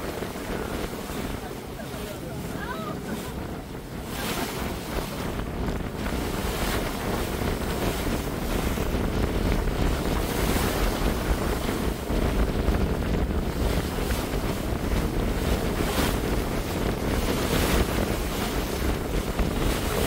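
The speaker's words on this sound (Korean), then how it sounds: "그냥 적당한 파도가 치고 있는 것 같습니다" Sea waves about a metre high wash against a cruise tour boat off Istanbul, a steady loud roar of water and buffeting wind throughout.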